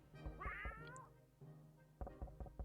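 A cat meows in the survival game 60 Seconds, a short rising-falling mew followed by a couple of quick thumps, faint and alone with no talk over it.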